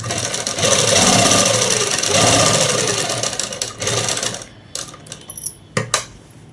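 A sewing machine runs a topstitch along cloth for a matching mother-daughter dress, a loud, steady mechanical whir for several seconds before slowing and stopping, followed by a few handling clicks and knocks, with no talk.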